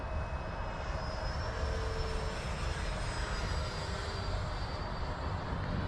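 A Freewing L-39 80mm ducted-fan RC jet flies past at half throttle, a continuous airy whine and roar that holds steady throughout, moderately distant.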